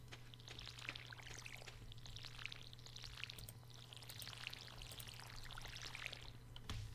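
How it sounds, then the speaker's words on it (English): A watering can fills with water in the Stardew Valley video game, a steady pouring splash that runs continuously for several seconds over a low constant hum, moderately quiet. "I'm going to fill up my watering can."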